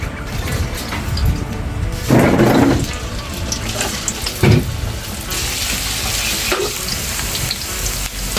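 Ginger sautéing in a pan for a Filipino ginisa, a steady close sizzle of frying with a couple of louder hissing surges as ingredients hit the hot oil, no talk over it.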